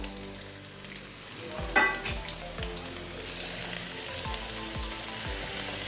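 Yellow and green bell peppers hit onions frying in a pan, a close, steady sizzle that swells after a brief clatter, with stirring scrapes and pops continuing alone.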